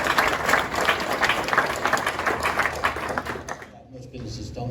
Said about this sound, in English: Can we get an applause from everyone?